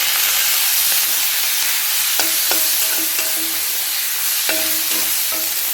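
Onion, tomato and coconut sautéing in a pan for a chana dal chutney: loud, dense hissing sizzle throughout, with occasional spatula scrapes and clicks against the pan.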